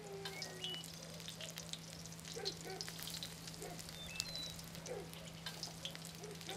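Meatballs fry in olive oil with whole garlic, giving a steady close sizzle with small crackling pops over a low constant hum.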